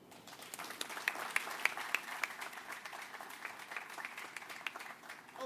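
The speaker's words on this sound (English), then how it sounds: "Let's have another round of applause for Mayor Duggan and Chief White" Audience at a press conference applauding, a faint, thin spread of clapping with a few sharper individual claps early on, sounding distant and subdued throughout.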